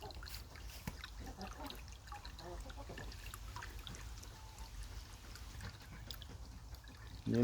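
Water pours and trickles steadily into a chicken drinker container as it fills, a continuous splashing stream at moderate level without talk.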